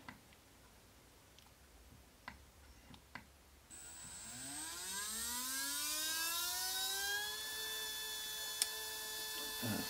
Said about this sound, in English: I'll just run this motor up.